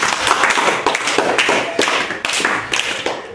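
Several children clap together for a classmate in a classroom, a quick, uneven burst of hand claps that carries on steadily for a few seconds at close range.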